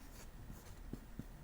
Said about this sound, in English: And I'm going to write it down here.